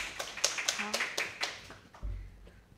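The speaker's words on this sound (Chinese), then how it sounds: "也给讲者一个掌声" Scattered audience claps ring out at the close of a Ruby programming talk on building LINE bots. They come as a loose series of separate, fairly close hand strikes, with a voice briefly heard among them.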